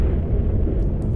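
A deep, sustained low rumble of a nuclear missile explosion fills the space in the strategy game Planetary Annihilation, loud and heavy with no speech over it.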